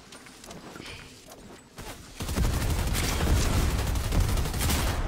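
Bursts of video-game gunfire crackle faintly at first, then give way to a loud, dense barrage of rapid shots that sustains to the end.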